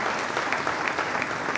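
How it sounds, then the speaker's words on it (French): Steady applause from a church congregation during a gathering of testimonies, many hands clapping in an even, dense patter, moderately loud and without speech. "Applaudissements."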